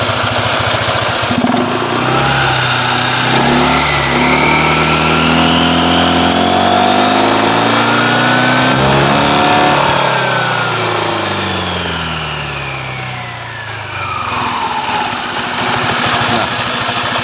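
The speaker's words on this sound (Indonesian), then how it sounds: "Kalau kita coba digas, nah bisa dilihat tarikannya ya" Car engine with the fan belt running, revved so its pitch climbs and holds before falling back toward idle, steady and loud from start to finish.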